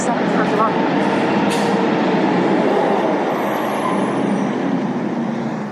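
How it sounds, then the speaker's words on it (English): A garbage truck rumbles by close on a Canada Day trail walk, its broad engine and road noise steady and loud throughout, with a brief hiss like an air brake early on. "Can't get away from the garbage truck."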